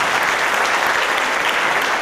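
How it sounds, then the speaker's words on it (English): A large audience at a school board meeting applauds students in dense, steady, loud clapping that continues unbroken. "how about one last round of applause for these outstanding young"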